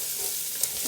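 Bacon and chopped onion fry in a soup pot, a steady close hissing sizzle with a faint clink of stirring, no voices over it.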